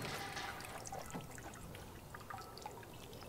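Water pours and trickles quietly and steadily while homebrew extract-brewing ingredients are rinsed, with small drips and splashes scattered through the faint flow.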